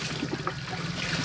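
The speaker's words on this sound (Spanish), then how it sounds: "mira cómo escurre ese cemento" Water and wet cement drip and trickle off soaked clothes and shoes after a man is thrown into cement, a faint, steady wet dribbling with no talk.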